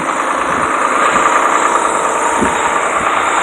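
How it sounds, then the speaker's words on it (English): A truck engine rumbles steadily as it passes on a road during a dog walk, a loud continuous mid-range drone with no talk over it. "It's a truck, actually, so we're going to cross the road"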